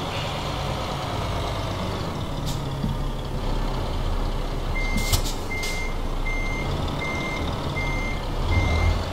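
A truck in Euro Truck Simulator 2 reverses toward a trailer, its steady reversing beeps pulsing evenly over a loud, constant idling engine rumble, with no talking.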